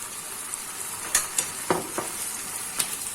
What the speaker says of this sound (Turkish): Böyle güzelce tekrardan karıştırıyoruz bunlar.